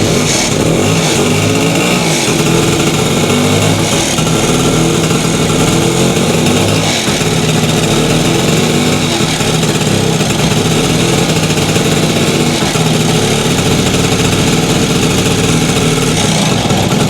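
A BSA Bantam D10 motorcycle engine with a leaking carburettor runs loud and close throughout. The exhaust makes a steady, buzzing two-stroke drone, and no one speaks.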